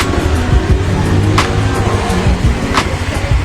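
A Lalamove delivery rider's motorcycle engine running steadily after a restart, a continuous close idle rumble with a few brief higher bursts.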